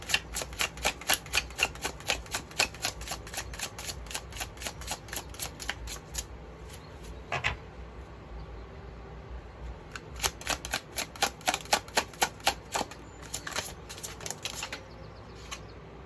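A deck of tarot cards is shuffled by hand up close, with rapid, crisp riffling flutters in long bursts that pause around the middle and then resume, and no talking over them.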